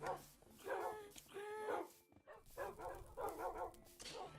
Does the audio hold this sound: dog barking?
yes